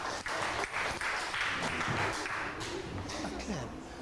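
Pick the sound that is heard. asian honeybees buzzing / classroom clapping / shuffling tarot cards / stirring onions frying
classroom clapping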